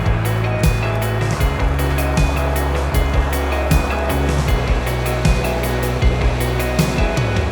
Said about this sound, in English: get a bit more shelter from this wind